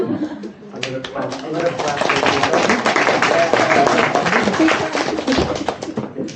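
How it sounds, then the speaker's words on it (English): A room of people at a farewell gathering breaks into sustained group clapping, dense and steady for several seconds, with voices mixed in underneath. "I'm gonna clap."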